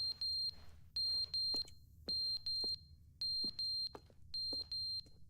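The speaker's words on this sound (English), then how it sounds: "What is that beeping?" Repeated electronic beeping inside the video game The Stanley Parable Ultra Deluxe, set in an office; loud, evenly spaced bursts of paired high tones with short gaps, continuing steadily and heard alone.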